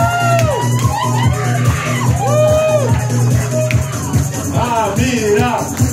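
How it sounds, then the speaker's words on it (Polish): A club crowd at a drag show in Poznań cheers and shouts as an act named Amira is welcomed, with loud whoops and babble over a steady bass-heavy music bed. "Proszę wielkie brawa dla Amiry Ciasnej!"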